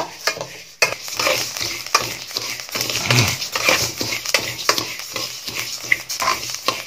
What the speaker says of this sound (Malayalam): അപ്പം നന്നായിട്ട് വറുത്തിട്ട് ഏകദേശം നല്ലൊരു കളറ് വരുവോളം വറുത്തെടുക്കുക